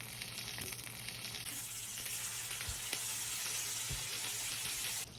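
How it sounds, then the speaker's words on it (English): Bacon frying low and slow in a pan for carbonara, a steady close sizzle and crackle that holds evenly throughout with a few soft pops and clicks. "Low and slow on the bacon."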